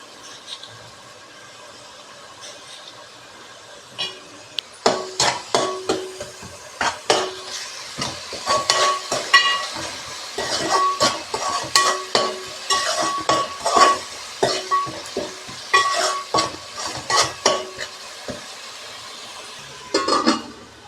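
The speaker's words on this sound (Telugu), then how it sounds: "పచ్చివాసన పోయే వరకు ఫ్రై చేసుకోవాలి" Ingredients for coconut milk pulao fry in a pan while being stirred, with a soft sizzle under irregular, sharp clinks and scrapes of a metal spoon against the pan, busiest in the middle stretch.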